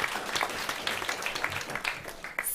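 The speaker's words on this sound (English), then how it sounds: "Round of applause, please." Audience applause at an agriculture and climate resilience talk, a lively burst of many hands clapping with individual sharp claps standing out, fairly close and uneven, fading slightly toward the end.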